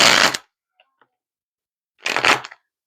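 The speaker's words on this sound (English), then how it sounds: "This deck's not wanting to shuffle for you guys." A tarot card deck is shuffled in two short, crisp riffling bursts separated by a quiet pause, close by and with no talking.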